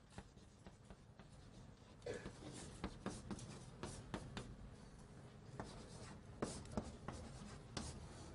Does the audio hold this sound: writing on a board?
yes